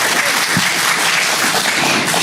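Audience applause fills a town hall meeting, a steady, dense wash of clapping that runs loud and unbroken from start to finish.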